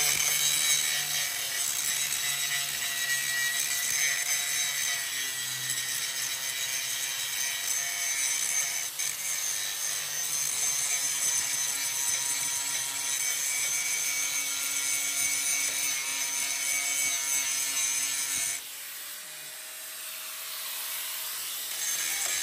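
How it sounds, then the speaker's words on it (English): An angle grinder grinds a weld flat on the cracked steel frame of a Grimme Varitron 270 potato harvester, producing a steady, loud high-pitched whine for about twenty seconds before easing off. "so I'm going to grind that flat now"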